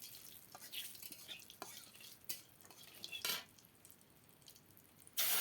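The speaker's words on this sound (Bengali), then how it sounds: "ভালো করে ভেজে নেব। ভালো করে ভাজতে হবে" Stirring and frying in a pan before bottle gourd curry is poured in, with repeated scraping strokes of a utensil against the pan, soft sizzling underneath, and a sharper clatter near the end, close and moderately loud.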